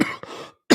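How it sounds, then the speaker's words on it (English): A man gives a short, raspy throat clearing and cough in two quick bursts close to the microphone, with a brief silence between them. "Every time I say cough, I want to cough."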